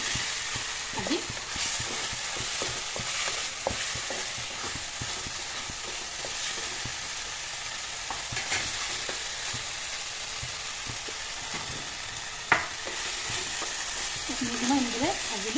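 Potatoes frying with cumin and chili powder give a constant crackling sizzle, with repeated scrapes and taps of a spoon stirring the pan and one sharp knock near the end.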